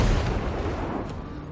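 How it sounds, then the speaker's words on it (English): A heavy booming blast from dwarf flame cannons in Total War: Warhammer 2, loud at the start and rumbling as it decays over a second and a half. "those flame cannons, as you can see here, is just blasting away onto my Dread Spears"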